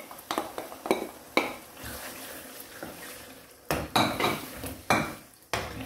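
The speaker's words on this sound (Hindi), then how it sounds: "इसमें डालते हैं अब दही" Yogurt goes into mutton masala in a pot, with close clanks and scrapes of a spoon against the metal pot, some in quick bursts and some spaced apart, over a faint sizzle.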